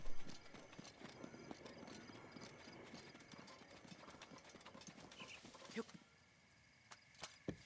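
Horse hooves clip-clopping steadily as a rider travels along a path in The Legend of Zelda: Breath of the Wild, a quiet, even trot that stops near the end, followed by a couple of faint knocks.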